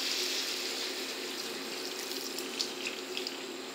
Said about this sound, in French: On va maintenant rajouter le vin blanc.